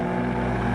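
Turbocharged BMW engine, either an M5 or an Alpina, droning steadily with a muted, deep bass tone inside the moving car, continuous and fairly loud with no talk.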